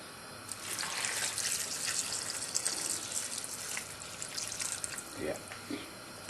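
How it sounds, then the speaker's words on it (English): Water runs and splashes steadily for several seconds as a litre is poured into a pan of base curry gravy, a close, continuous pouring wash with faint voices in the background. "I am going to add another litre of water to this."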